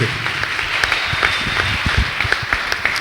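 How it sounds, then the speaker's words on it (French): A church congregation applauding together, a steady clatter of many hands clapping from start to finish at moderate loudness, with no one talking over it. "Est-ce qu'on peut acclamer très bien pour la parole de Dieu?"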